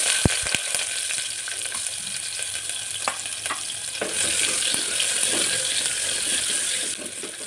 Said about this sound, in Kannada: ಎಣ್ಣೆ ಬಿಸಿ ಆದ ತಕ್ಷಣ ಈರುಳ್ಳಿ ಹಾಕ್ಕೊಳ್ಳಿ.